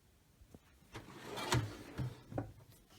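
A top drawer of craft-room storage, holding die-cutting supplies, opens close by with a few soft wooden knocks and a short rubbing slide, quiet and alone.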